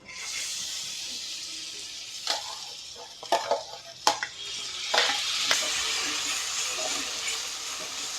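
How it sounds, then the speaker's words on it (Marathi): Ground rice frying in butter in a pan gives a continuous soft sizzle, broken by several sharp scrapes and clinks of a spoon stirring. "बटरमध्ये आपल्याला हा जो तांदूळ आहे 1-2 मिनिटं शिजवून घ्यायचा आहे"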